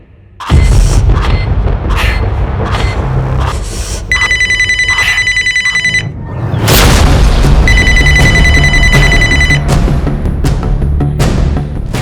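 A telephone rings in two bursts of electronic trilling, set against loud booming dramatic music hits and heavy low thuds in a crime drama scene.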